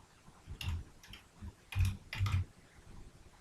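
Typing on a computer keyboard, a handful of soft, irregular key clicks in small clusters, close but quiet over a low background hiss.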